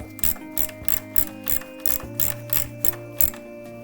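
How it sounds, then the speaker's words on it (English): A ratchet clicks in quick, evenly spaced bursts while bolts are tightened on the hood latch of a 1987 Corvette convertible, the close mechanical clatter repeating about ten times with no talk. "tighten any of them down until I have all three of them seated"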